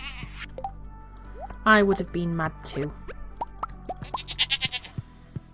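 Goats bleating in the farming video game Stardew Valley, a few short cartoonish bleats mixed with plopping game effects, while a person talks over them.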